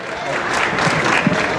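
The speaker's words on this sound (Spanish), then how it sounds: "Y le damos el aplauso de ustedes para recibirlo también" An audience at a live song contest for unreleased songs in Ocotlán, Jalisco breaks into applause to welcome a performer, a close, dense, steady patter of clapping with a few voices mixed in.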